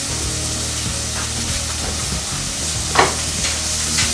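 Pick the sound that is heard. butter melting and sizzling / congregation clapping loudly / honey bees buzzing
butter melting and sizzling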